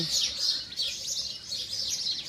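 Pigeons, newly brought home and not yet trained, give soft continuous chirping and calls at close range, steady throughout with no talk.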